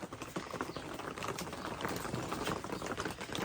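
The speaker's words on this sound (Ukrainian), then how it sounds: "Знову дощ починається." Rain begins falling outdoors in a rural village, a dense, continuous fine patter of drops at moderate volume with no voices.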